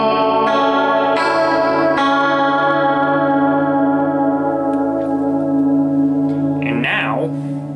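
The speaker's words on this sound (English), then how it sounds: "the hall setting, here's what that sounds like" Sustained electric guitar chords ring out through a hall reverb setting, smeared by a wide, lingering wash with a shimmering chorus-like quality, each strum blooming and fading slowly.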